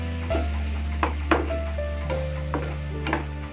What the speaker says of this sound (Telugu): కొంచెం పచ్చివాసన పోయే వరకు దీన్ని వేయించుకోవాలి